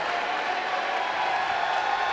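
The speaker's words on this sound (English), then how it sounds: "this large Dayton crowd making their presence heard" A large Dayton home crowd at a basketball game roars and cheers in a steady, loud wash of applause and crowd noise that holds throughout.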